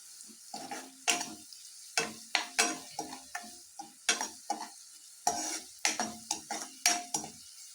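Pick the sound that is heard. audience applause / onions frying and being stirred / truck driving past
onions frying and being stirred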